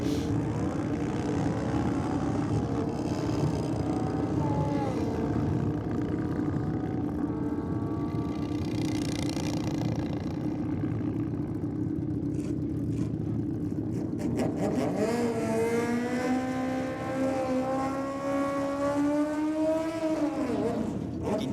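A Kawasaki GPZ drag bike idles and revs loudly on the start line at a Sydney drag strip, a steady engine drone that climbs in pitch near the end.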